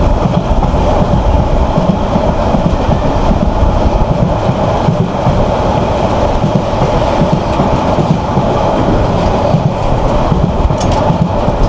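Saikat Express passenger train running on the rails between Chattogram and Cox's Bazar: a loud, continuous rumble with steady wheel rattle and clatter, heard up close with no voices.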